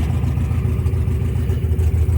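1972 MGB engine idling roughly with unbalanced carburetors, a steady, loud low rumble with a slightly uneven, lumpy pulse and no talk.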